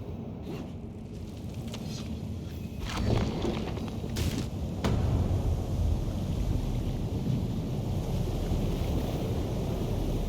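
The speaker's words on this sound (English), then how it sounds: "The wind is picking up." Strong wind rising at sea, a loud, continuous roar with gusty low rumble and a few sharper bursts, swelling slightly partway through.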